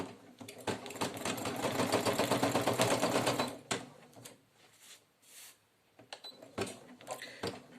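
A Brother F440E/PE800 embroidery machine stitches a minky fabric teddy bear appliqué onto a T-shirt, giving a loud, steady rapid needle chatter for about four seconds, then stopping, followed by scattered handling clicks and rustles.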